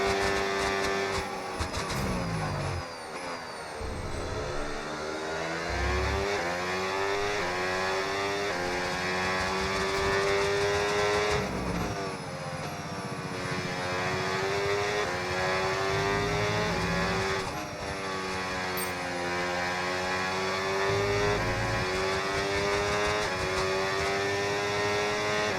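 Racing car engines whine continuously around the Monaco circuit in the F1 26 video game, rising and falling pitch as gears shift, steady and loud with no talk.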